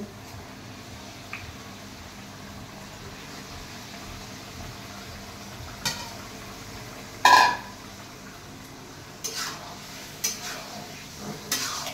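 Chicken meat goes into a pan of fried spices and gets stirred, giving a low quiet sizzle with a few sharp scrapes and clatters in the second half, loudest near the middle, then several shorter stirring knocks. No voices.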